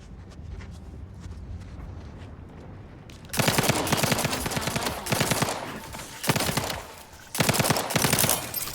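Rapid automatic gunfire in The Outer Worlds 2, a first-person shooter played on Very Hard difficulty, as a full magazine is emptied: dense bursts of close, loud shots break out after a quiet stretch, pause briefly, then resume in further bursts.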